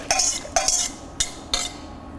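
Utensil scrapes and clinks against a metal pot as pastry cream custard is returned to it, four short bursts in a steady rhythm, close and fairly loud, with no talking.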